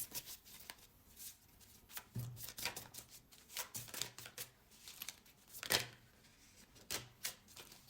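Tarot cards are shuffled by hand at close range in repeated riffling bursts, with soft rustles between the quick flurries and no speech.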